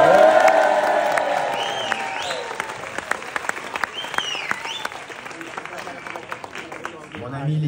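A crowd applauds and cheers after a speech at a karate federation's 60th anniversary, loud clapping and whoops at first that thin out and fade over several seconds.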